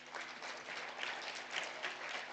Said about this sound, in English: I think it's a good point to give them a clap.